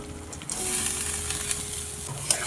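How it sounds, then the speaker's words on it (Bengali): Chopped, washed cabbage dropped into spices frying in a pan, giving a steady close sizzle and hiss with light stirring for a couple of seconds. "এবারে দিয়ে দেবো কেটে ধুয়ে রাখা বাঁধাকপি।"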